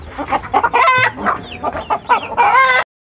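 An aggressive rooster and hens in a cage give loud, close clucks and agitated squawks in choppy bursts, ending on a strained crow-like cry before it stops.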